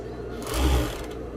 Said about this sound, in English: that is an intense seamer serger